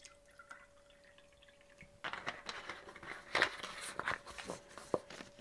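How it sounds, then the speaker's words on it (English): Bleach water poured into a container while tools are set out for replating orchid seedlings and protocorms. After a quiet start, close trickling, dripping and light splashing patter on for a few seconds. "I'm going to put the bleach water"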